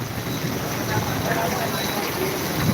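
A heavy downpour in Jam Khambhaliya makes a dense, steady hiss of close rain noise with no breaks.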